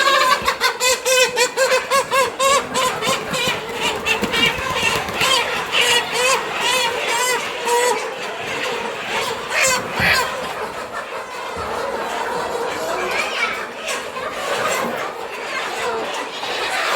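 Chickens on a poultry farm in Ghana cluck and squawk steadily throughout, a dense flock close by with occasional crowing, while people talk over the birds.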